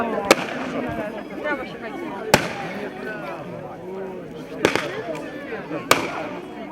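Grenade explosions at an outdoor event in Wałcz: four sharp, loud bangs spaced a couple of seconds apart over steady background murmur and voices talking.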